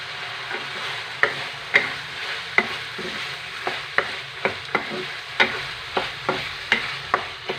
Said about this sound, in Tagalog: Haluin na natin.